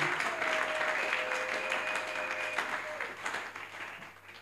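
A church congregation applauds the Lord in steady, sustained clapping that stays fairly soft and slowly fades, with sparse voices and a faint tone beneath.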